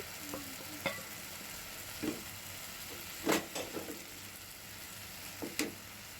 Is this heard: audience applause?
no